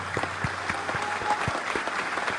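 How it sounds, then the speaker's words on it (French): An audience applauds the president of Niger at a formal speech; sparse, distinct hand claps stand out over a softer wash of clapping, moderately quiet and steady throughout. "Je vous demande de l'applaudir très fortement,"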